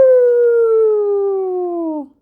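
A human voice imitates a dog howling at the moon in one long, loud, sliding howl that slowly falls in pitch and then stops.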